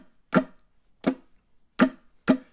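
A ukulele played in a strum pattern with accents and many missed strokes, four crisp, short chord hits separated by silent gaps, close and unaccompanied.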